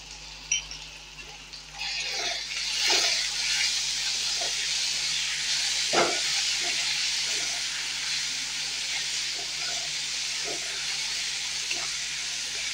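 Tomato with salt sautéing in hot oil for a spicy cucumber thecha, giving a steady close hiss with occasional clinks and taps of a spoon against the pan; no voices.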